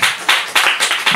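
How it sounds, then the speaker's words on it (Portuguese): A church congregation at a Sunday night service claps together in a brief rhythmic burst, with several sharp, evenly spaced unison claps close and clear. "Vamos aplaudir esse Deus maravilhoso?"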